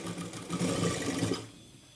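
Sewing machine stitching a half-inch seam along a folded sleeve edge, a steady mechanical whirring that runs for about a second and a half, then stops.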